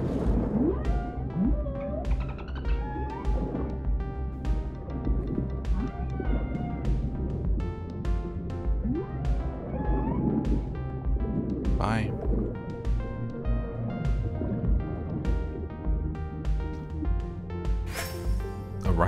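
Dolphins chirp and whistle in the underwater video game Dave the Diver, with repeated high calls sounding over continuous game music and a person talking throughout.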